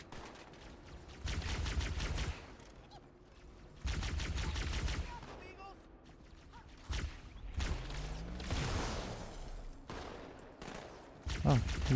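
Halo 2 gunfire hitting the player, several loud bursts of rapid automatic shots, each lasting a second or two, separated by quieter gaps with mechanical clicks and whooshes.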